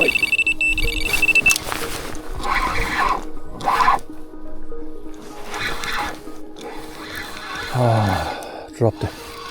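Electronic bite alarm on the right-hand rod of a river pike fishing setup, giving short high-pitched beeps in the first seconds, with talk and outdoor handling noise around it.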